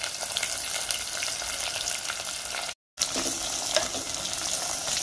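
Sliced onions fry in a pan with black peppercorns, green cardamom, star anise and cloves, giving a continuous close crackling sizzle that cuts out for a split second midway and then resumes.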